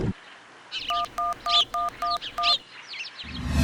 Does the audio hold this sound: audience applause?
no